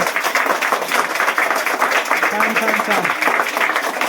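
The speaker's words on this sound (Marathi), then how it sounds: "आता स्वतःसाठी टाळ्या वाजा जोरात सगळ्यांनी" Schoolchildren at a village school clap loudly together, a dense, steady burst of applause close by that runs the whole time, with voices mixed in underneath.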